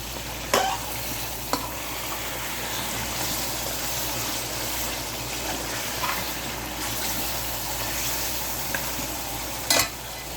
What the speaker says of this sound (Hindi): ये मसाले भी हमारे इसके साथ ही फ्राई हो जाएंगे प्याज के साथ